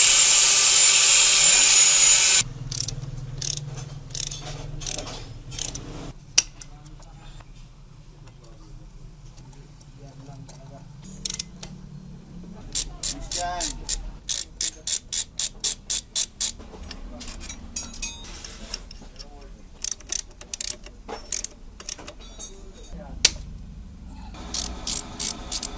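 Ratchet clicking in repeated quick bursts while Grade 5 titanium bolts are fastened on a Honda Click 150 scooter, close and crisp with pauses between runs.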